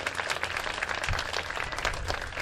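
Faint, steady applause from a crowd at a student art event, a soft wash of many hands clapping at a distance.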